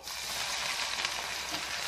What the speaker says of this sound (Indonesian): Pertama Tampinay, kita goreng ini ikan bilis dulu